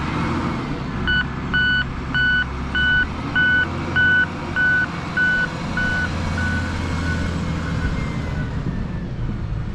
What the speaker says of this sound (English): It's a little slimy there where he's driving the loader.